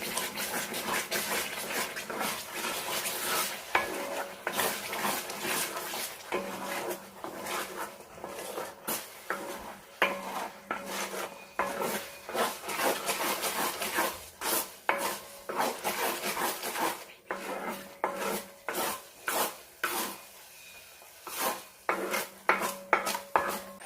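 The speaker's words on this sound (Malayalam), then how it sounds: "ഇനി ഇതിലേക്ക് ഒരു 1/2 ടീസ്പൂൺ നെയ്യും കൂടെ ചേർക്കാം. എന്നിട്ട് നന്നായി മിക്സ് ചെയ്യണം." Thick amla (nellikka) lehyam with ghee being stirred in a pan, a continuous scraping and rubbing with uneven strokes and occasional utensil knocks against the metal, no talking.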